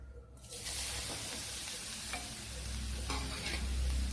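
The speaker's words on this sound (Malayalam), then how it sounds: "ഇതിനെ ഒന്ന് ഫ്രൈ ചെയ്തെടുക്കണം" Grated coconut and tamarind fry in coconut oil for a horse gram chammanthi podi, a loud continuous sizzle beginning abruptly and holding steady with gentle stirring scrapes.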